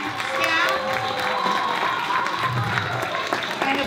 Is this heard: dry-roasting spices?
no